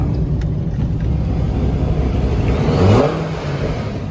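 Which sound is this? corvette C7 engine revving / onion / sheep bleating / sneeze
corvette C7 engine revving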